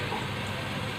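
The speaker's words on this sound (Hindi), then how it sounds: "थोड़ा सा और इनको करेंगे फ्राई" Bitter gourd pieces frying in hot oil, a dense continuous sizzle and crackle at moderate level with no talk.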